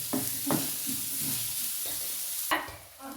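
Curry leaves sauté in a hot pan for a jackfruit snack, giving a steady close sizzle with a few scraping stirs and a sharper burst of crackle near the end.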